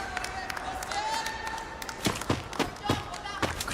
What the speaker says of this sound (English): Crowd goes crazy down there out of that fight